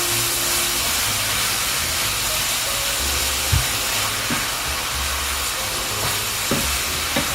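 Ground meat and onions for chili sizzle in a pan, a loud, dense, continuous hiss with a few faint clinks of a utensil against the pan.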